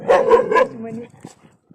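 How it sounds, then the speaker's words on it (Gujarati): A dog barks three times in quick succession nearby, followed by a few softer yips and a whimper. "અહીંયા તો કૂતરા બાંધવા મળ્યા છે"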